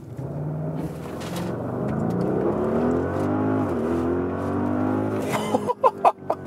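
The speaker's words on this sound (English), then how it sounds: "let's just accelerate a little bit to see and also hear the sound" A premium SUV in RS mode accelerating uphill, its engine rising in a steady, close drone that climbs in pitch, followed by a few brief knocks near the end.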